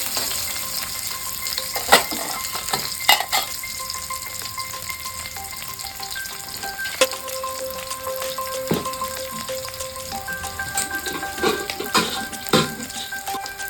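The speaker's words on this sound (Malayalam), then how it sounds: "ഇനിയിപ്പോൾ സവാള ടീസ്പൂൺ ഉപയോഗിച്ച് ഇളക്കി മറിക്കണ ചടങ്ങാണ്" Sliced onion fries in a pan and is turned with a teaspoon: a constant close sizzle broken by scattered scraping clinks of the spoon against the pan, with no voices.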